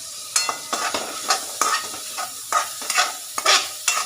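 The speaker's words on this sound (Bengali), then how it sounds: "এইভাবে নেড়ে নেড়ে সবজিগুলোকে একটু কষিয়ে নিই।" Vegetables for noodle khichuri being stirred and fried in a pan: a rhythmic series of spatula scrapes over a soft continuous sizzle, close and clear, with no voices.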